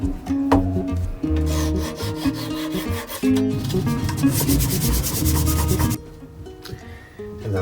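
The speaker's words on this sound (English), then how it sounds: "let's take these off and cut the dowels off" A hand saw cuts through wooden dowels in a sun lounger frame, giving a close, loud rasping stroke rhythm that runs continuously for several seconds and then stops abruptly.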